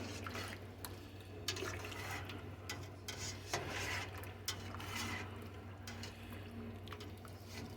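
Thick beer cheese soup being stirred in a pot, giving faint, steady wet squishing and sloshing with soft scrapes and a low background hum, no voices.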